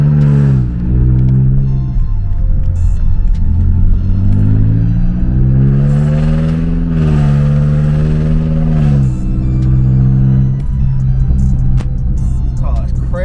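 BMW X6M engine heard from the driver's seat in efficient mode: a loud, deep rumble that repeatedly swells and drops as the revs rise and fall, close and dominant throughout.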